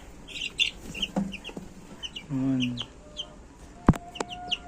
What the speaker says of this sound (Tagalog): Ganda ng mga sisiw natin